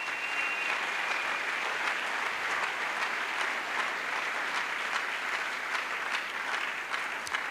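Congregation at a French-English Christian crusade revival meeting clapping for Jesus, a dense, steady wall of applause from many hands, sustained and fairly close throughout without talk.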